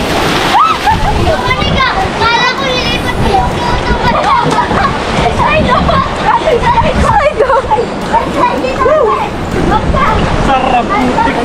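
People jump into clear river water at Big Stone in Aurora Province, sending loud, close splashes and sloshing over a flowing-water backdrop, with excited voices chattering and shouting throughout.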